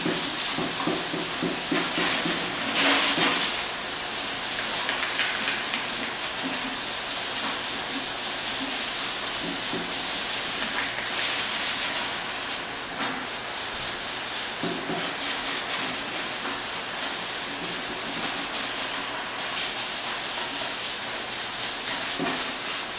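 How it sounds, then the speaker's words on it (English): Sandpaper scrubs across metal ahead of priming, a close, continuous hissing rasp made of repeated back-and-forth strokes that swell and fade, steady for the whole stretch with no voices. "You can see how that sandpaper easily cuts that off."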